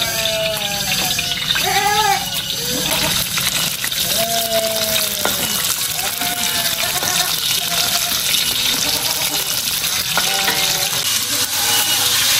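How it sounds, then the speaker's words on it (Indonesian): Salted fish frying in a pan with a loud, continuous hiss and crackle of hot oil, close and unbroken throughout, with short voiced sounds popping up over the sizzle. "Lanjut sekarang menggoreng ikan asin"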